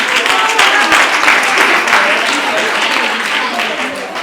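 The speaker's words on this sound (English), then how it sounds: "A round of applause for that." Applause from a large school audience at an alumni homecoming and birthday celebration, a dense steady wash of clapping filling the whole stretch at close, loud level.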